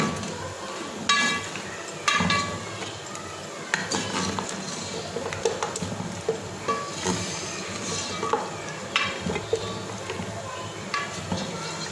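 Spices frying in a pot for beef qorma, a continuous sizzle with a metal spoon scraping and clinking against the pot as it is stirred, repeated stirring strokes at close range, no voices.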